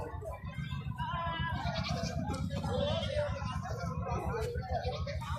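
Goats bleat at a livestock market, with several wavering calls overlapping in quick succession amid crowd chatter and nearby talking.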